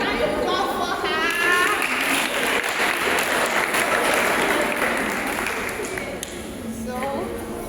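Audience clapping for a volunteer at a girls' education event, sustained applause with voices talking over the start and end.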